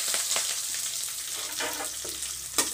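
Green chilies and sliced shallots sauté in hot oil for a manathakkali keerai kadaiyal, producing a steady close sizzle with a few soft stirring bursts and no speech.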